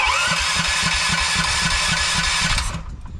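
A small engine with the choke on cranks in a fast, rhythmic chug, loud and close, then cuts off abruptly near the end.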